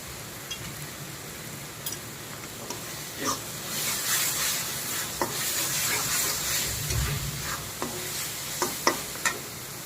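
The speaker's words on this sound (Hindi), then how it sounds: "लगभग आधा हमारा ये मसाला जो है भून गया है" Masala frying in a pan, a soft, continuous sizzle broken by scattered stirring scrapes and clicks, with no one talking.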